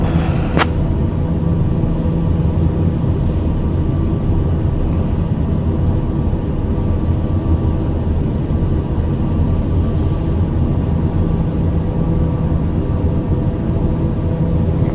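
A TBM 850 turboprop flies in a flight simulator, its engine and airframe a steady, loud droning rumble throughout with no talk, holding an even level from start to finish.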